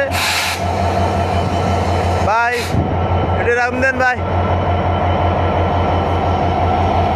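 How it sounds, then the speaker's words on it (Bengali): A train pulls out of Kulna rail station, a low rumbling drone of the moving rake under station noise, with short squealing bursts partway through and people talking nearby. "ট্রেন এই যে এখনই ছেড়ে দিয়েছে, ট্রেন এক্ষুনি চলে যাবে"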